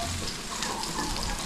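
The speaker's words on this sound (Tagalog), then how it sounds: "First time ko magluto ng ano, sayote ginisa" Chayote and shrimp sautéing in a pan, a steady close sizzle and crackle of oil filling the short stretch with no talk.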